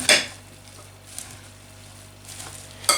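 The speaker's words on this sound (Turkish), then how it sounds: "Şimdi bunları güzelce bir karıştıracağım." Broad bean salad with garlic being stirred in a bowl: a few clinking utensil scrapes at the start and end, with soft, quiet rustling in between, close by and with no voices.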